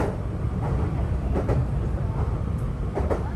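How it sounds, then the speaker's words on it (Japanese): A Meitetsu train rolls on its rails toward Kannonji station, a steady rumbling interior noise with faint rhythmic clicks of wheels over joints, continuous and fairly loud. "列車は間もなく観音寺駅に到着します。"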